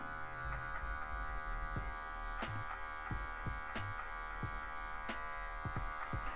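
An electric hair clipper buzzes continuously at close range while its tip cuts a medium fade in afro hair, with light scraping taps as it works through the hair.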